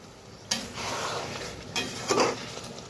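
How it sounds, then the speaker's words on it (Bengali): A lid is lifted off a pot of chicken makhmali and sour yogurt is added, with a metallic clank followed by soft scraping, a low sizzle and a couple of close utensil knocks against the cookware. "তো ঢাকনাটা উঠিয়ে দিই, দিয়ে দিব টক দই।"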